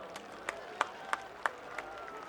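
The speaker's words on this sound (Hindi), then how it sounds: "एक बार जोरदार अपने लिए भी तालियां बजा दीजिए" Clapping at a Sanatan Hindu unity march gathering: a handful of sharp, separate claps at a steady, even pace, fairly close and fading slightly toward the end, over a quiet background.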